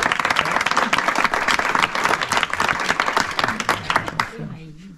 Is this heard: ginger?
no